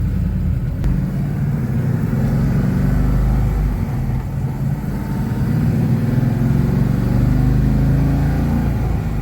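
An LS1 V8 with a BBK SSI intake, fitted in a 1970 Buick, running steadily nearby: a loud, continuous low-pitched rumble that holds even throughout, with no talking.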